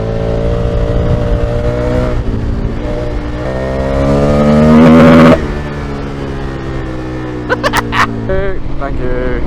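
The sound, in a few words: KTM motorcycle riding and revving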